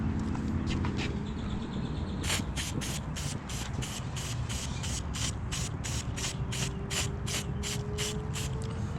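Rapid bursts of cleaner spray hiss onto a hedge trimmer in a steady rhythm, about a dozen short squirts in a row, close up over a low mechanical hum.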